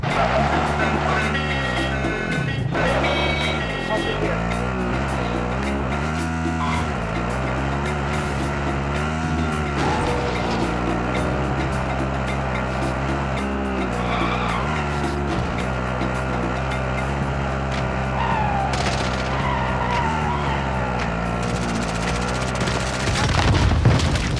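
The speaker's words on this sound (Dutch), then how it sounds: "Doorgaan met die buggy." A buggy engine in a video game revs and whines continuously, with shifting pitch as it drives and skids, alongside background game music.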